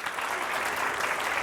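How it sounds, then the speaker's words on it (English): An audience gives a round of applause for a guest at a college event, a steady dense clapping that holds at an even level for its whole length, with no talk over it. "Let's give her a round of applause."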